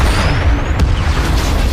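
A helicopter crashes in a loud explosion in a movie, a single heavy booming burst with a rumbling tail, loud and close.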